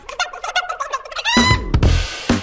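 A chicken in the Fortnite video game lets out a rapid run of squawky, gobbling clucks, loud and close, with no talk over it.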